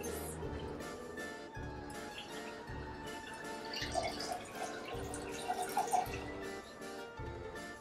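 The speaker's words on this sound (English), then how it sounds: "pour in 2 ounces of the blood of cranberries" Cranberry juice is poured over ice in a cocktail glass for a poisoned apple drink, giving a continuous close trickle with soft clinks and crackles of ice through the pour, no voices.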